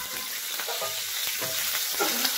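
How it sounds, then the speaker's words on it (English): Squid sizzling and frying in a pan, a steady crackling hiss with small pops and spatters, fairly quiet and close, with no talking. "we're cooking the squid off"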